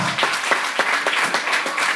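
Loud, dense applause from a large church congregation, continuous and energetic clapping filling the whole stretch.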